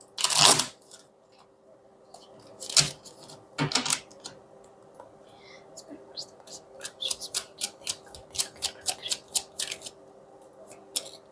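Tarot cards shuffled by hand, sharp papery riffles and slaps near the mic, a few separate bursts early on and then a quick run of rhythmic snaps toward the end, with no talking.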